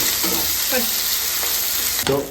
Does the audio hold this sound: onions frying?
yes